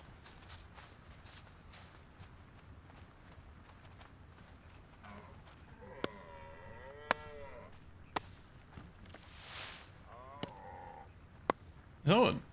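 A deer in the video game Pax Dei gives a cow-like moo, faint and distant amid quiet ambience, with scattered footsteps and clicks around it.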